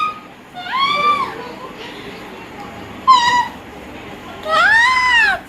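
A person imitates a cat with three drawn-out meows, the last one the longest, spaced a couple of seconds apart against a quiet background.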